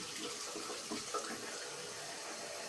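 Extremely hot water runs steadily from a tap into a sink, a continuous hiss and splash heard alone at moderate level throughout.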